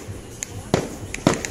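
Firecrackers and fireworks during New Year 2021 celebrations: two sharp, distant-sounding pops and a few fainter cracks scattered over a steady outdoor background hum.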